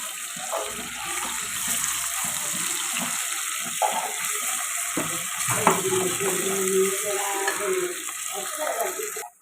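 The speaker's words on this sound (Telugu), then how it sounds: "ఇందులోకి అల్లం వెల్లుల్లి పేస్ట్ వేసుకొని పచ్చివసం పోయేదాకా ఫ్రై చేసుకోండి" Ginger garlic paste fries with onions in a pan for bottle gourd dal, a steady close sizzle with occasional scrapes and clinks of a spoon throughout.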